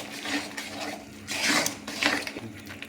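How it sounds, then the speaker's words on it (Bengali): Sour yogurt stirred with spices in a pan while making chicken maharani curry, with soft scraping and clinking of a utensil against the pan in uneven strokes, close and moderately quiet. "টক দইটা দিয়ে ভালো করে মশলার সাথে আমি মিক্স করে দেবো।"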